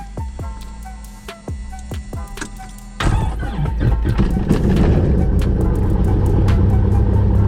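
Small training airplane's piston engine starting up: a few slow cranking beats, then the engine catches with a sudden jump into a loud, steady rumbling idle.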